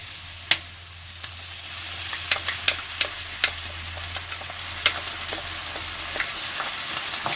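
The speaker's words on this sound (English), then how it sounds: "Now I will add some tomato puree to it." Browned onions sizzling in a pan as tomato puree goes in for dry chicken masala; a quiet steady fry with sharp scattered clicks and pops of a spoon against the pan, no one speaking.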